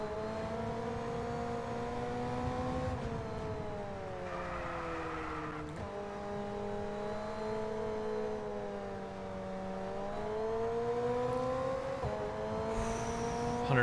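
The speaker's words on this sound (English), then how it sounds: "Nice drift, you heard it, right?" A supercar drifts in F1 22 at the Azerbaijan circuit, its engine droning steadily with pitch sliding down and back up through the slide, alone and fairly close.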